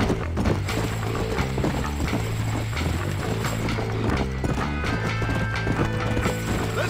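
Horse galloping in Red Dead Redemption, a fast, continuous drumming of hooves with rattling tack, loud and close throughout, with no talking.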